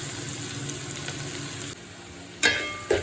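A fish head fries in a pan with a steady close sizzle that dips slightly midway, followed by a couple of short clattering bursts near the end.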